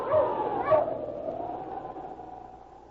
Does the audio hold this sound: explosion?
no